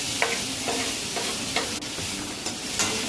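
A spoon scrapes and stirs tomato, onion and prawn masala in a sizzling pan, a few rhythmic strokes over a steady frying hiss, close and moderately loud, no voices.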